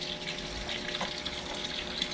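A Panasonic automatic washing machine fills with water, a steady rushing, hissing flow from the tap into the drum with a faint pump-like hum beneath, continuous and fairly close.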